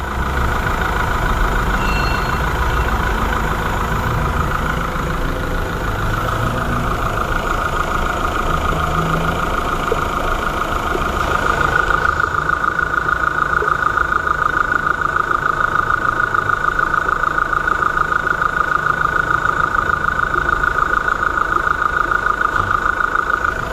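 A VW Polo engine idling steadily and quietly, under repair for a coolant leak and water pump, a constant even hum with a faint whine that grows slightly stronger partway through.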